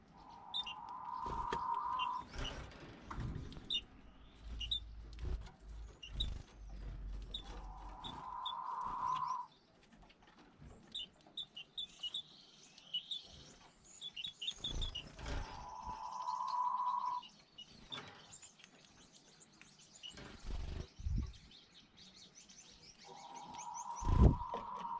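Gouldian finches and quail in an aviary give sparse, quiet chirps and short whistled calls, spaced out over a soft background with no talking.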